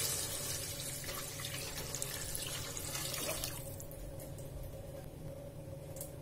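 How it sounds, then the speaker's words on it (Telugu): Steady rush of water pouring into rice, broadband and continuous, easing slightly partway through; no voices. "దానికి ఇప్పుడు 5 కప్స్ వాటర్ పోస్తున్నాను."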